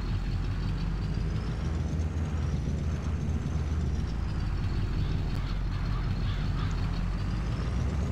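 A John Deere 4020 tractor engine runs steadily in a farm field, a constant low, loud rumble holding without pause throughout.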